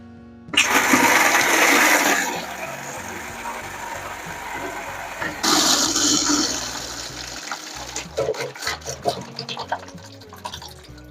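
Water drains and gushes from the expansion tanks of a home water heating system, a rushing flow with mechanical clicks and clatter from the valves, close and fairly loud, tapering into scattered knocks.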